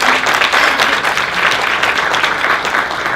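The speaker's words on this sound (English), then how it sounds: "I think that deserves a round of applause" Audience at a Shaam-e-Rang event breaking into dense, sustained applause, a loud steady wash of many hands clapping at once with no pauses.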